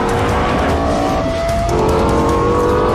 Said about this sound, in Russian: Агрессивном, громком, динамичном. Самый высокооборотистый серийный V10.